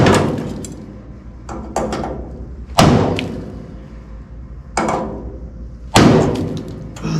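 A hammer strikes a punch against a rivet on a rusted Ford F1 rear shock mount, four or five sharp, loud metallic thuds spaced irregularly with short ringing decay between blows.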